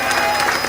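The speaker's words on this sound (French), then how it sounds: "Ça ne mérite pas des acclamations encore pour Jésus?" A church congregation applauds and cheers for Jesus during a Sunday testimony service, a dense steady wash of clapping with some voices mixed in through the whole brief moment.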